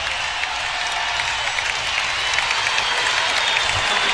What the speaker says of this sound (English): Big old ovation from the hometown crowd.